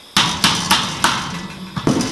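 A hammer taps press-on caps onto a Weber Master Touch charcoal grill: roughly six or seven sharp, close metallic knocks at an uneven pace, alone with no voices.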